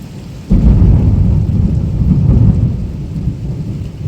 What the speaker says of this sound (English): That's that good old sideways rain.